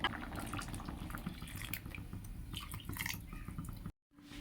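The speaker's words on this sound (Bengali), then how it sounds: "একটু গরম জল দিয়ে দেবো জল লাগবে" Hot water pours into a pot of nearly cooked, thickened mung dal, a close, bubbling trickle of liquid with small splashy drips over a few seconds before cutting off abruptly near the end; no one speaks.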